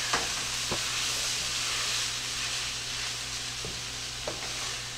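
A chili gravy mixture is stirred in a pan for beef enchiladas, with a steady close sizzling hiss throughout and a few faint spoon scrapes against the pan.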